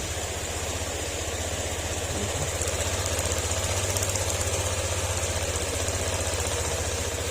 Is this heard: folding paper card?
no